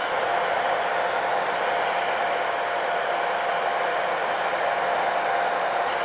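Heat gun blowing steadily while shrinking thin heat-shrink tubing over bolts, a constant loud whooshing hiss with an even fan drone and no pauses.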